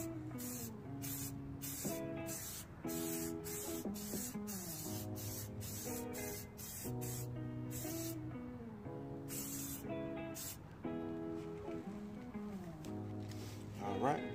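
Armor All tire shine sprays from a wide nozzle in a series of sharp, close hissing bursts, repeated rhythmically over a steady background hum.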